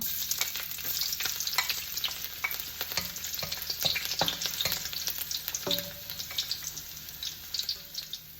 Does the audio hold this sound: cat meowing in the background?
no